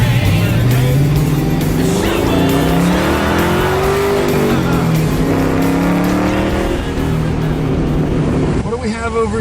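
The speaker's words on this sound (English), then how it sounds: "It's loud. And I attribute that to the BBK headers that we put on it." Loud Ford Mustang engine fitted with BBK headers, a deep rumbling exhaust that rises and falls in pitch as it revs, running steadily close by with people talking over it.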